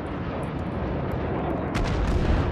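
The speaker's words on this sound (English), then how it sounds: "that was a good napalm" Napalm strike explosion in the Vietnam War shooter Rising Storm 2: Vietnam, a dense, loud rumbling roar that fills the whole stretch and swells slightly louder near the end, with no voices over it.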